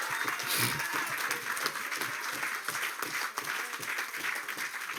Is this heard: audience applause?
yes